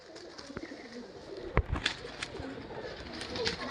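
Pigeons coo softly over a busy background of rustling and scattered clicks, with a couple of sharper knocks midway.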